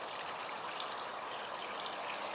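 A water and bleach mixture pours steadily over pine cones in a container, a continuous close, fairly loud rushing and trickling wash with no pauses and no voices.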